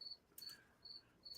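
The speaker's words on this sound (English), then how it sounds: "So you got the crickets, huh?" Crickets chirp in short, regular bursts at night, faint and alone with no talking, a steady insect trill repeating about every half second.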